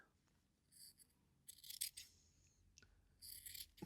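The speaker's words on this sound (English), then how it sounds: "I'm just going to trim off the ends of this." Fabric ends being trimmed with scissors while hand-stitching a small pocket altar: three short bursts of crisp snipping and rasping, close and quiet, separated by near silence.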